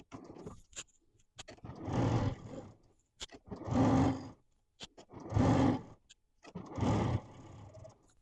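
Sewing machine stitching binding along the edge of a quilt, running in four separate bursts of steady whirring with short pauses and soft clicks between them.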